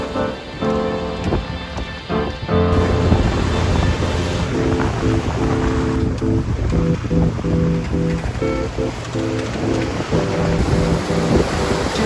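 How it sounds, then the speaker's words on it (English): Sea wash and steady wind rush aboard a sailboat running downwind in 20-knot winds and 5 to 8 foot seas off the coast between Charleston and St. Augustine, continuous and close with no talking. "More downwind surfing, more 20 knots true, more 5 to 8 foot seas."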